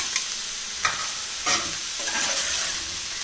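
Chopped ginger and green chillies sizzle steadily in a hot pan with a constant frying hiss, while a spoon stirs them in a few scraping strokes; no talking.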